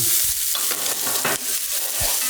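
Onions wilt down in a pan of clarified butter for steak au poivre, giving a dense, close hiss broken by quick scraping stirs.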